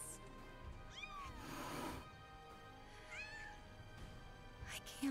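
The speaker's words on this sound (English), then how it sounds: "Oh my God, it's kitties." Cats meow in the Final Fantasy VII Rebirth video game, with two or three distinct rising-and-falling meows spaced apart, fairly clear over a soft game background.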